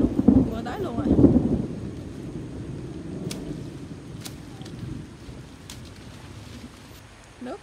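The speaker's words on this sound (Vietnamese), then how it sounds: "Quá trời đám mưa này là có ông trời ông gầm thấy ghê chưa" Rolling thunder over steady heavy rain at a rural Vietnamese home, loud rumbles at the start fading into a continuous wash of rain and wind.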